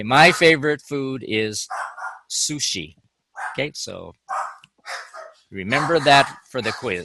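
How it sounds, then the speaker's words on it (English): Dogs bark in the background of a recorded online lecture while the lecturer keeps talking, their barks mostly buried under the speech. "excuse the dogs."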